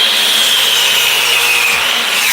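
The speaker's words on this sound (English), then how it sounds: "Don't let your miter saw wind up like that, guys." A miter saw rips through wood with a loud, close, steady whine and rasp that holds evenly for a couple of seconds without a break.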